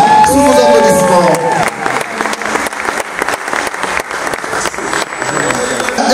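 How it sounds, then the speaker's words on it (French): Loud applause and cheering from a crowd at the Furaha Awards of Congolese cinema in 2023, welcoming an honoree to the stage, with music playing at first, then dense, steady clapping mixed with whoops throughout. "sous vos applaudissements"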